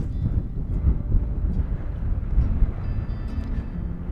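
Strong north wind buffeting the microphone at Dante's View overlook in Death Valley, a continuous rumbling roar with gusty swells, loud and close, no talking.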